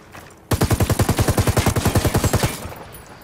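Rapid automatic gunfire in Ghost Recon Wildlands, a loud, close burst of about twenty evenly spaced shots in quick rhythm that starts abruptly and stops after two seconds.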